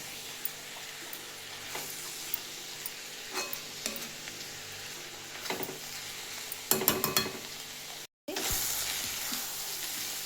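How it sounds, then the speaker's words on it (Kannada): Fresh masala paste and coriander frying in hot oil with a steady, loud sizzle and occasional stirring clatter, a brief burst of scraping near the end, then a sudden moment of silence before the sizzle resumes. "ಇದ್ರೊಳಗೆ ಇನ್ನೊಂದು ಸ್ವಲ್ಪ ಎಣ್ಣೆ ಹಾಕ್ತೀನಿ ನಾನು. ಎಲ್ಲ ಮತ್ತೆ ಚೆನ್ನಾಗಿ ಫ್ರೈ ಮಾಡಿ"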